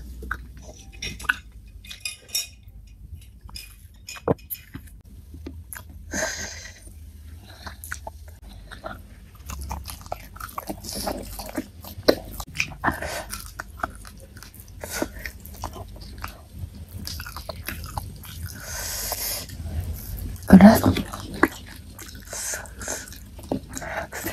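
Someone eats soft boiled cassava with cheese and spicy shallot-shrimp-paste sambal close to the mic, with wet chewing, biting and smacking sounds, occasional utensil clinks and brief speech.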